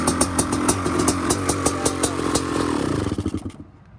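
A road-registered Honda CR500 motorcycle engine runs steadily up close with a rhythmic, clattering pulse, then the revs drop and the engine fades toward the end.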